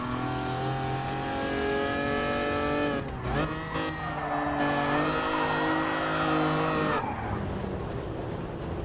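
A Lancia Stratos in the racing game GT Sport revs its engine continuously, its steady engine tone dipping briefly around a gear change and then climbing again, loud and close, with faint tire noise.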